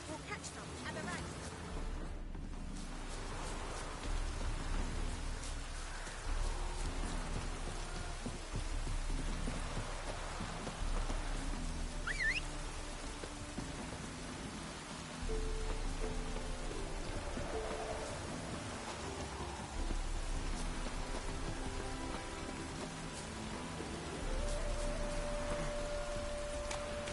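Steady rain hiss pours throughout a Witcher 3: Wild Hunt Hearts of Stone game scene, a continuous wash with a low rumble beneath, while music-like tones and occasional voice sit over it.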